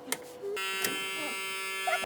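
A heat press timer buzzer sounds steadily for over a second, bracketed by a few soft clicks and handling noises.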